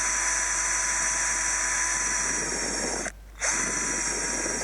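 A Dedra 18V Li-Ion cordless drill (DED7883-Li) whirs steadily at close range with a high-pitched motor whine, briefly stopping for a split second before spinning up again.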